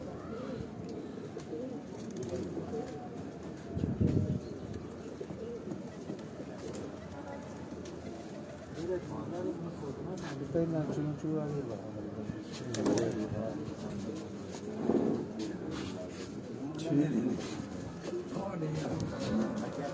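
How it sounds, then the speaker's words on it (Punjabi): Golden pigeons coo repeatedly in low, murmuring bursts, mixed with people talking nearby throughout. "ਗੋਲਡਨ ਕਬੂਤਰ ਹੈ"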